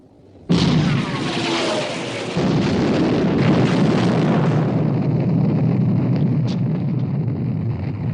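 Naval gunfire in a 1960 war film about the battleship Bismarck: a sudden loud blast followed by a long roaring, rumbling explosion that swells and slowly fades, with no voices.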